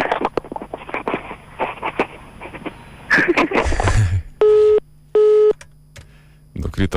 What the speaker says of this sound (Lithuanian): Nukrito telefono ragelis.